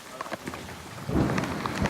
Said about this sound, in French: Même de nuit, quand un grain s'abat sur le pont, c'est le branle-bas de combat général pour récupérer un maximum d'eau de pluie.